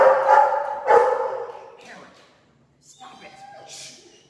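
Dog barks a few times close by, with loud voices overlapping and continuing between the barks.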